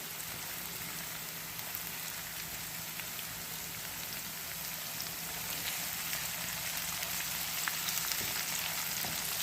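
Jackfruit seeds rubbed with asafoetida, with curry leaves added, frying in hot oil in a pan, giving a steady dense sizzle and crackle that holds close and even throughout, with no talk.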